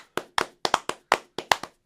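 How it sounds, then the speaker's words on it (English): A few people clap in a short, sparse burst of about eight distinct claps at the close of a Q&A session, nearby and without talk over them. "Give yourself a round of applause."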